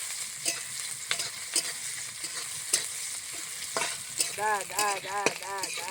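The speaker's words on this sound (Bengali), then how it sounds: "নাড়াচাড়া করবো সুন্দরভাবে" Onion, garlic and chili frying in a pan are stirred, a soft continuous sizzle with repeated clinking scrapes of a spoon against the pan, and a person talks briefly near the end.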